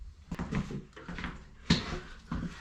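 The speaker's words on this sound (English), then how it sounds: "I'm going to go ahead and slide the drawers in place" Plywood pantry drawers in a converted 2002 MCI coach slide into place with soft wooden scrapes and a sharp knock near the end, quiet and close.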